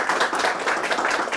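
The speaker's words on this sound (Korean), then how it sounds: "박수 부탁 좀 드리겠습니다" An audience at a business forum roundtable lecture applauds, dense and even clapping filling the whole short moment at moderate loudness with no talk over it.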